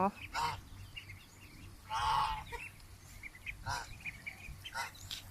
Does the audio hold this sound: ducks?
yes